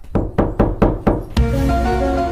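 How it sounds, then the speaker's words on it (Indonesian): Five sharp knocks on a door in quick, even succession, loud and close, then a sustained tonal hum carries on after the last knock. "kok ada yang kayak ngetok-ngetok pintu ya?"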